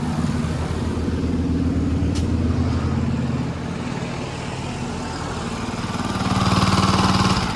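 A sprayer pump motor idles steadily while the tank fills with mixed chemicals, a continuous low engine hum with no talk, swelling slightly louder toward the end.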